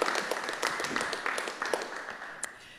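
A small room of people at a council meeting gives a brief, faint round of applause, soft scattered clapping that fades out.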